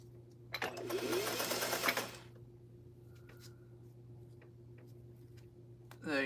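A sewing machine stitching in a quick burst of about a second and a half, close and fairly quiet over a steady low hum, followed by faint ticks and handling sounds.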